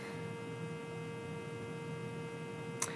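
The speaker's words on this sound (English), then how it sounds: "It makes a very slight hum because it's on, but this microphone picks it up as if I'm sitting right next to my tower." Desktop PC case fans give off a faint, steady hum, picked up by a laptop microphone, unbroken except for one tiny click near the end.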